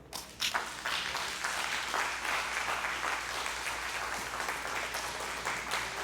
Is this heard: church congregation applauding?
yes